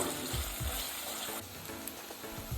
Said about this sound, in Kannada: ಬೆಳ್ಳಗಾಗೋವರೆಗೂ ಫ್ರೈ ಮಾಡ್ಕೊಬೇಕು.